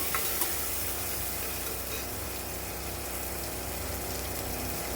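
Onions and tomato frying and being stirred in a pan, giving a steady, moderate sizzle with faint scraping and clinks, close by and without talk.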